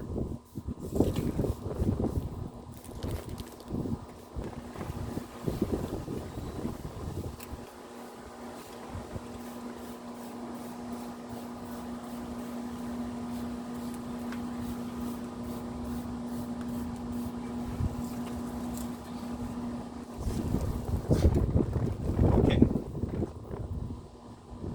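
Gusty wind buffets the microphone in rumbling bursts, loudest at the start and end, with a steady mechanical hum and hissing spray in the middle stretch, outdoors while degreasing a leak on a 2005 Lexus ES 330.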